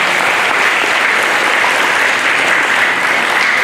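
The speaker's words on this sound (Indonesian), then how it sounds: "Mari kita beri aplaus untuk kedua." An audience at a university talk applauds two speakers, steady dense clapping filling the room from start to finish.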